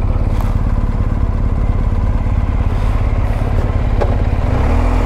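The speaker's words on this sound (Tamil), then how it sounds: "வண்டியை திருப்பி நிப்பாட்டுவோம்" A motorcycle engine runs steadily up close with a low, throbbing rumble and some clatter as the bike turns around, then the note drops and settles near the end as it comes to a stop.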